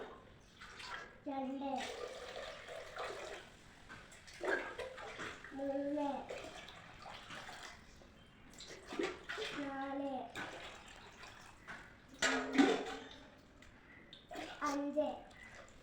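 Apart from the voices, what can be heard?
water poured cup by cup into a large pressure cooker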